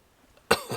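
A person imitates someone's cough, producing one short, sharp, close cough followed by a softer second burst.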